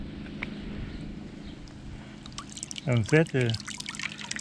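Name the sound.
small cascade pump running, water trickling into garden pond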